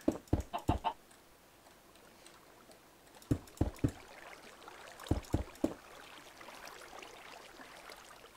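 Short bursts of clucking from Minecraft chickens, a quick cluster at the start and two more groups later, fairly faint over a quiet game background.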